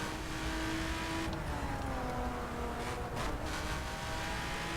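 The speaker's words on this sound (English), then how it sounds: "I'm in a full spec BMW, which can do about 300 kilometers an hour" BMW in The Crew racing game, engine revving upward through gears with rising whine and a brief shift dip, steady and close, no voices.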